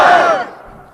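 A large crowd at a political public meeting in Bidar shouts a slogan back in unison, one loud, massed roar of voices that peaks at once and then fades quickly.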